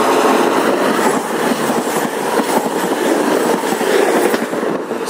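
A Class 220 Voyager diesel train passes close by at Dawlish, a loud, steady rush of wheels and engine with rhythmic clickety-clack over the rails, no voices.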